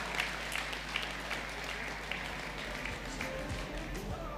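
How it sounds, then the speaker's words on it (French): Loud, close applause from an audience at a French Eurogénétique 2017 breeders' event, with dense clapping and a few sharper individual claps standing out, steady throughout. "Félicitations, on peut l'applaudir bien fort."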